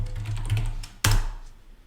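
Close typing on a computer keyboard: a quick run of light key clicks, then one sharp louder keystroke, like a press of enter, near the middle.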